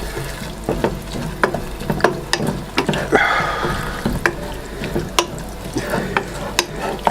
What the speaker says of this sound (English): And I'll just give this a stir.